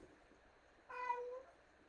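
A pet cat named Kingfish gives a single short, faint meow in a quiet room, with a soft rising-then-falling pitch that lasts about half a second.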